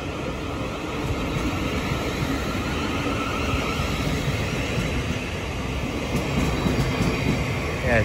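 Thameslink Class 700 unit 700 037 pulls out of Bromley South station bound for Sevenoaks, its steady rumble and rolling noise loud and close, with a high electrical whine above.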